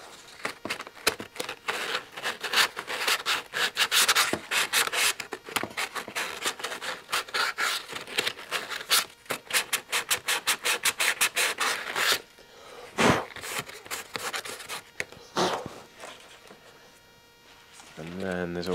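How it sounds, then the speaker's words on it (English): Sandpaper roughs up the EPO foam and plastic parts of a Zeta Wing Z-84 flying wing model with fast, scratchy rubbing strokes close up for about twelve seconds, then a few sparser scrapes. "just rough it up with a bit of sandpaper so the glue sticks a bit better"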